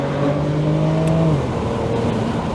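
An automatic car, in a comparison against a Honda S2000, accelerates hard from around 2,500 rpm, its engine tone climbing steadily up close before easing off into a smoother whir midway.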